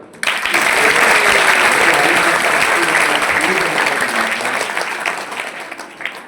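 A large audience at a Bharatiya dance performance claps loudly and continuously, a dense burst of applause that rises quickly, holds, then slowly tapers off.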